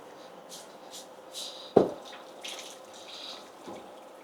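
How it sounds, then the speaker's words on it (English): Water poured off boiled cassava gives a short splash and gurgle over a quiet kitchen background, followed by a few faint drips. "And then we need to pour out the water."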